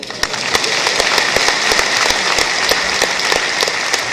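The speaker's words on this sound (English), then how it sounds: "Let's make this applause double" Steady applause from an audience at an accountants' conference plenary session, dense overlapping clapping that holds loud and even throughout, with no talk over it.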